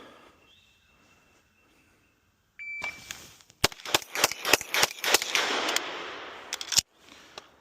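A Walther PDP Steel Frame Match pistol fires a rapid string of sharp, loud shots after a brief electronic beep, with the reports echoing at a shooting range.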